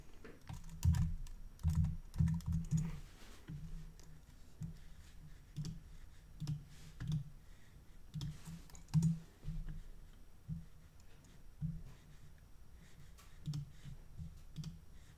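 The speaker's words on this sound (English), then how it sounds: "You just keep clicking and type the word, hit enter." Typing on a computer keyboard with mouse clicks while using Boardmaker Online, irregular bursts of close key taps and clicks with pauses between them.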